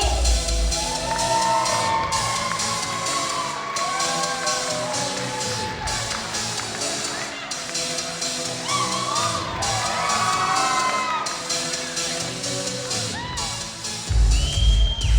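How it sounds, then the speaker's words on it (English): Wedding guests cheering, whooping and shouting as the wedding party is introduced, a sustained loud crowd roar with high excited voices over pulsing reception music, ending in a louder swell. "please put your hands together loud and proud for Rachel, Sean, and Ryan"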